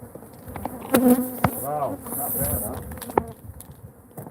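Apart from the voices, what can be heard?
agitated bees buzzing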